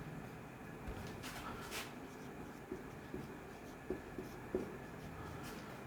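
Pen or chalk writing out the value of x in a maths lesson, faint scratchy strokes with a few light taps against a low hum.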